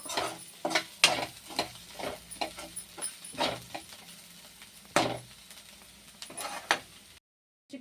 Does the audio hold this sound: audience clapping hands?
no